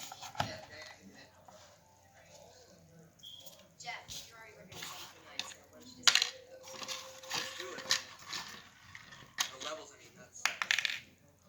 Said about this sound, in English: let's pop in these screws on the bottom